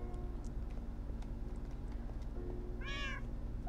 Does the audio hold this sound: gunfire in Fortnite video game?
no